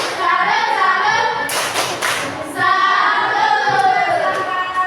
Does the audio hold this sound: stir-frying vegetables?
no